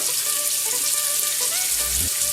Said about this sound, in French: des brochettes de crevettes. Regardez le son qui scintille.